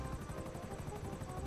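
Steady rhythmic thumping of helicopter rotor blades in Grand Theft Auto V, fairly faint, with a constant chopping pulse and no voices.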